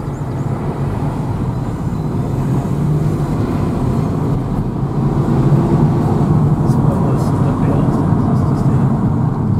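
Cars leaving a cars and coffee meet at Morwellham Quay and driving uphill, a steady loud engine rumble passing nearby with people talking over it.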